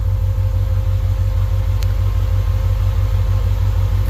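A car engine idles close by with a steady, pulsing low rumble and a constant whine above it, unbroken throughout and with no talking.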